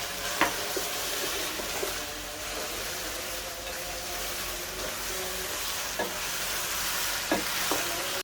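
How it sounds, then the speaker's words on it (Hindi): Chicken frying in oil with onions for Sindhi biryani, a steady dense sizzle and hiss with a few scattered spoon scrapes and taps against the pot, close and even, without speech. "चिकन को हमने ऑयल और प्याज के अंदर तब तक फ्राई करना है जब तक एक चिकन का अच्छा सा कलर चेंज नहीं हो जाता"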